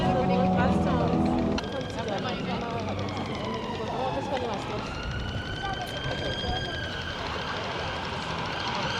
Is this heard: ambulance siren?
yes